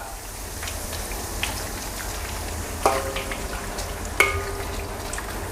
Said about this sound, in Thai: แล้วก็ทอดพริกแห้งกับใบมะกรูดตามชอบได้เลย ทอดแค่แป๊บเดียวพอนะครับ